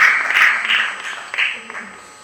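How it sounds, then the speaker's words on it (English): Brief applause from the audience at a national spelling bee semi-final, clapping for a former contestant that swells quickly and then fades within a couple of seconds. "A round of applause for Morris"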